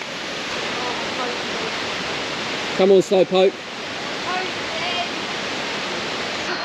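A loud, constant roar of a waterfall in Sumba, Indonesia fills the scene, with a person briefly calling out over it midway.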